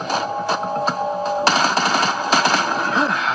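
Guns firing in a Roblox shooter, a run of sharp repeated shots over a steady, loud game background with tonal hum, short and fairly close.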